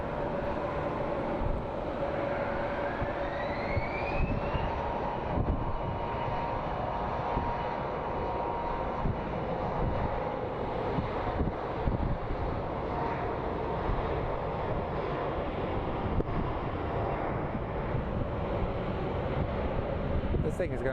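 A SkyWest CRJ regional jet takes off at Phoenix Sky Harbor International Airport, a steady broadband jet roar heard from a distance with wind buffeting the microphone and a faint rising whine, continuous and fairly quiet throughout.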